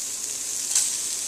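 Small slices of sausage fry in a pan in their own rendered fat with no added oil, producing a brief, steady crackling sizzle that spits slightly louder midway.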